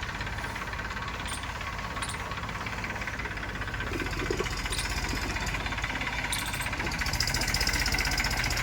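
An Eicher 380 Super Plus tractor idles nearby with a steady, rough diesel chugging that keeps running throughout, growing slightly louder toward the end.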